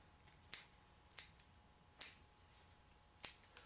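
Pruning shears snip a Grewia bonsai branch in a quiet room: four sharp, crisp clicks spaced about a second apart, followed by a fainter fifth, each alone and close.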